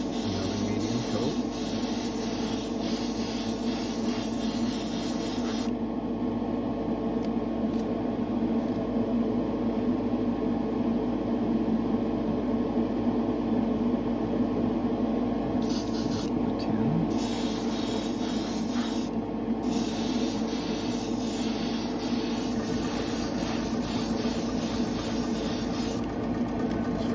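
Thinned craft paint sprayed in a medium coat from an airbrush-style sprayer, a steady close hiss running almost continuously, with brief pauses and a constant background hum.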